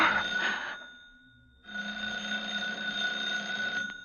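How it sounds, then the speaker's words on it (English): A telephone ringing indoors in an apartment in an old radio drama, a loud metallic bell ring that cuts off and then starts again, each ring sustained and close. "I was standing next to her at 11:30 when the phone rang."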